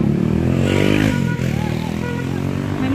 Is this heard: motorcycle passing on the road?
yes